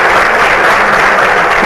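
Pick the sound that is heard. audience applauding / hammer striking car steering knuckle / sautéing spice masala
audience applauding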